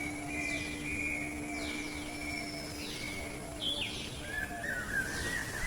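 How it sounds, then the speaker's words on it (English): Alexandrine parakeets give a few thin, high chirping calls at moderate distance, scattered over a steady background hum with no talking. "The Alexandrine parakeets."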